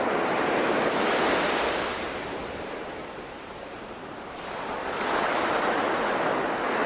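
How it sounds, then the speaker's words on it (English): Ocean waves crashing on an open-air shore, a broad roaring surge that swells, eases and rises again, mixed with wind buffeting the microphone. "Or the crashing of the waves?"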